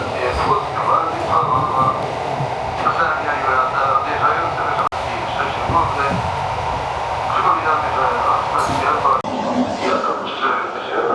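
Rumbling rail noise inside a moving train arriving at Gdynia station, with clattering and rattling as it slows, while an announcement voice speaks over it.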